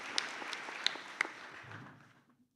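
A graduation ceremony audience applauds in a short burst of dense clapping that fades out toward the end.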